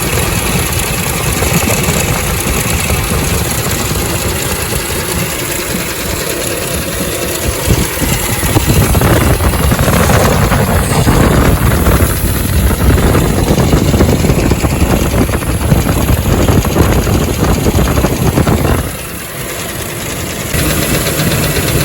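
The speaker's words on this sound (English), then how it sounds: "Crank the truck up and let it run and see if I can find the noise from there." Truck engine left running at idle during lifter and rocker arm diagnosis, a steady close rumble with some knocking, continuous and loud throughout with a brief dip near the end, no talking.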